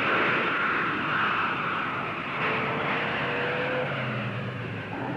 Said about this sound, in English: Now, they hear the sound of a jet plane.